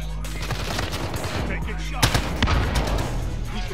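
Shotgun blasts ring out in a Warzone match, several sharp booming shots in quick succession over continuous game noise, close and loud.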